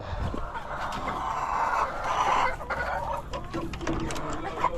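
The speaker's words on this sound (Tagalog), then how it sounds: "sa dulong kulungan sa mga bago kong nangingitlog na manok" Several laying hens cluck and squawk close by in a busy, overlapping chorus, with a faint crow in the mix and no one speaking.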